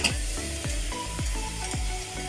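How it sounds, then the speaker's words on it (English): Onion gently fries in oil in a pan for a mushroom risotto, a soft continuous sizzle with regular scraping strokes of a utensil stirring it, close by and without voices. "we're going to gently fry our onion"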